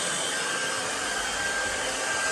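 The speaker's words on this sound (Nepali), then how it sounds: "फ्रिजमा त टन्नै साउन्ड छ त।" A refrigerator in a small home kitchen in rural Korea runs with a loud, steady, whooshing hum that holds one constant level and a faint whine throughout, with no voices.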